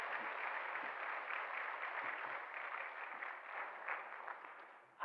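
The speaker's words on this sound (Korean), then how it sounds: "우리 힘차게 박수로 환영하겠습니다" A church congregation at a Sunday worship service applauds to welcome a newly registered member, a steady, even wash of clapping that sustains for several seconds at moderate distance.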